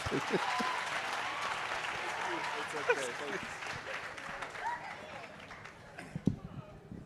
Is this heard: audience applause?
yes